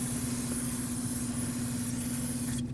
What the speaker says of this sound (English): Now I want to clean this area with brake parts cleaner.